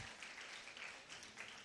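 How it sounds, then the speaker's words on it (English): An audience at an International Mathematics Day and Pi Day event keeps up steady, fairly faint applause, a continuous patter of many hands clapping with no voices over it. "Let's keep clapping"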